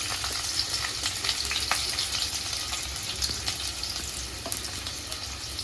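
Onion frying in hot oil in a pan for a papaya dish, heard as a close, continuous crackling sizzle with light stirring scrapes and no talking.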